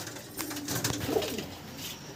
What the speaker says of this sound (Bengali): এটা একটা নর পায়রা। এই যে পায়রা ছেড়ে দিলাম।